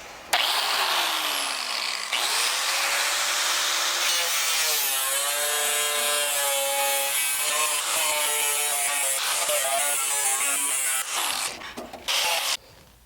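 Power tool trimming the metal fender of a Miata, a loud, continuous whining grind with rising and falling pitch as the cut progresses, ending in a few short bursts.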